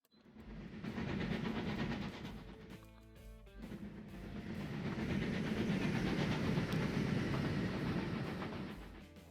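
Steam trains from the 1910s run on rails in the Transport Fever 2 video game, giving a continuous rumbling clatter of wheels and wagons, with a brief rhythmic clickety-clack burst partway through.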